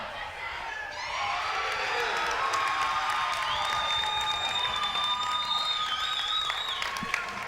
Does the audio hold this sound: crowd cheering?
yes